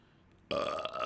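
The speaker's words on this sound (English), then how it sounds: "I'm very sorry that I just burped into the microphone, everybody." A single loud, abrupt burp straight into a microphone during a live stream, breaking sharply out of near silence and sustaining for about half a second.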